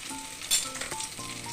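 Onion and green chili frying in a pan for brinjal upperi, giving a soft, continuous sizzle with a brief louder burst of spatter and light stirring clinks, fairly quiet and close, without speech.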